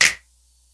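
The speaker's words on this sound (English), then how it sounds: "finger clap." A single finger clap drum sample fired from an MPC sampler, one crisp bright snap that decays within a fraction of a second, then silence.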